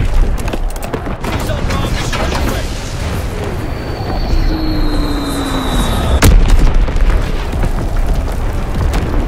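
Artillery barrage in a video game: a continuous rumbling roar of explosions with falling whistles of incoming shells and one sharp, loud blast near the end.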